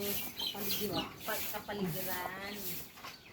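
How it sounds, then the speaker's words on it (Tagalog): Ducks quacking close by in short, harsh bursts, with murmuring voices mixed in. "Ayan ang mga pato."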